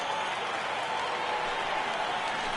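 A baseball crowd in MLB The Show 18 applauds steadily, a dense even wash of clapping and cheering at moderate distance, sustained without breaks.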